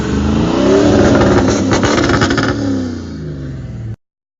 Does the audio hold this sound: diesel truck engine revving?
yes